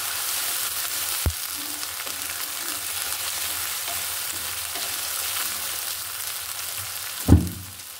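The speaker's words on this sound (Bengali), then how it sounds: "দিয়ে দিচ্ছি রসুন বাটা, আদা বাটা। পেস্টটা ভালো করে কষিয়ে নিয়ে তারপর অন্য মশলা দিব।" Garlic and ginger paste frying in a pan, a steady close sizzle running throughout, broken by two sharp thuds or clanks near the start and end.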